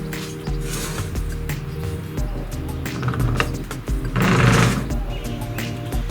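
A knackered steering rack on a Honda CRX gives off a steady mechanical grinding and rattling clatter, loud and close, swelling in intensity toward the end with no talking over it.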